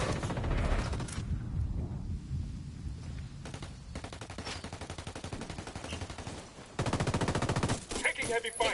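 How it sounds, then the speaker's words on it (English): Heavy automatic gunfire in Ghost Recon Wildlands, loud sustained bursts of rifle and machine-gun shots rattling almost continuously, with rapid rhythmic volleys near the end. "Taking heavy fire!"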